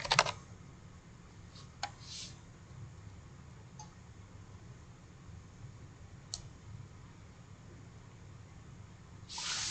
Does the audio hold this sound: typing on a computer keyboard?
yes